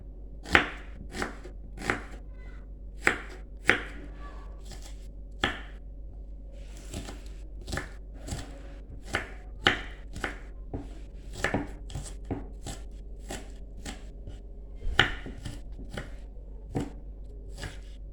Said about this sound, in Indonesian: bawang bombay setengahnya saja lalu diiris-iris